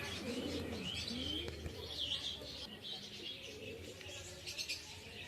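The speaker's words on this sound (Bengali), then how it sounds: "এটা ডাঁটা পায়রা" Pigeons in a village loft in Bengal, kept by a fancier of Madrasi pigeons, give soft repeated coos mixed with chirps and a brief flutter of wings, with faint talk in the background.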